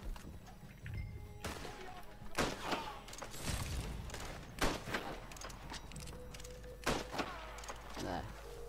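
Sniper rifle shots in a video game, several sharp loud cracks spaced a second or two apart over low game ambience, with a voice talking at times between them.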